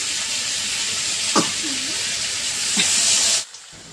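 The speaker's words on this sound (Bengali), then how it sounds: "তো একটু জল দিয়ে নিলাম সেদ্ধ করার জন্য।" Water poured into a hot pan of spiced eggplant curry masala fried with onion, chilli, turmeric and salt, giving a steady close steaming hiss with a couple of brief clinks, cut off abruptly near the end.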